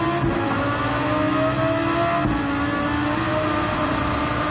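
A Nismo engine in a highly modified car revs steadily at high speed in Gran Turismo 7 on the Nürburgring Nordschleife. The loud, continuous whining drone has a brief dip partway through.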